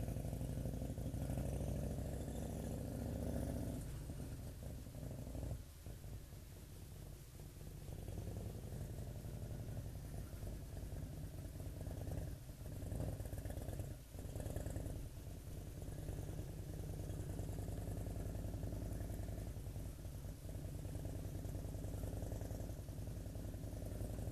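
A motorcycle engine runs at a steady idle, a low continuous rumble close by with slight surges, heard alone without talk.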